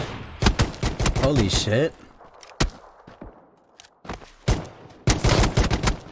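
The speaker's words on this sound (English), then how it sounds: "That guy shot you with a shotgun from like a, with a sniper attachment." A shotgun with a sniper attachment fires in a video game, with several loud, close blasts and bursts of gunfire separated by quiet gaps, while a person briefly exclaims over them.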